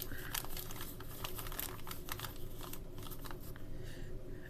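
Paper folded by hand into a small seedling pot for transplants, a steady run of close crinkling and crumpling with sharp creasing snaps over several seconds, with no talking.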